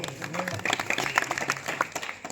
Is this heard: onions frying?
no